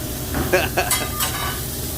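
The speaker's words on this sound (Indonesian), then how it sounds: "Ini dia lagi restoran Jepang tapi juga lagi masak nasi goreng Indonesia nih" Nasi goreng, Indonesian fried rice, being stir-fried in a Japanese restaurant kitchen, with a steady sizzle and a few sharp scraping, clattering strokes of the spatula in the pan.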